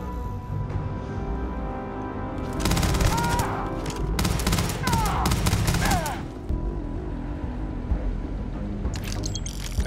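Shotgun fire in the Starfield video game, a dense run of sharp shots and bursts in the middle of the stretch, loud over steady background game noise.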